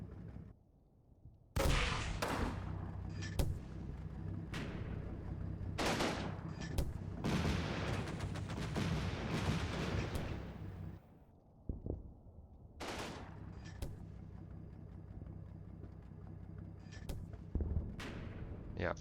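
Mortar fire in the wartime video game Combat Mission, heard as a string of heavy, booming reports over a dense battlefield rumble, with a brief lull partway through before further thuds resume.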